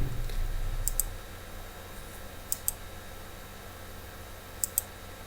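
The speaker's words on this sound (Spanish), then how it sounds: "clic derecho, abrir pieza" Computer mouse clicking during SolidWorks CAD work: a few sharp, faint double clicks spaced seconds apart over a quiet room hum.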